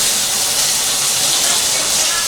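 Eels fry in a pan with a loud, continuous sizzling hiss that stays steady and close throughout.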